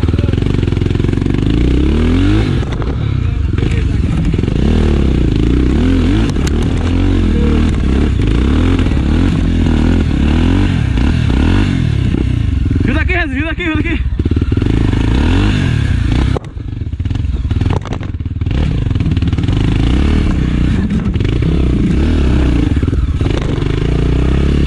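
Trail motorcycles labor up a steep hill during a mountain trail-riding challenge, engines roaring and revving hard almost nonstop, with clattering and scraping, a brief burst of shouting voices partway through and loud continuous engine noise throughout.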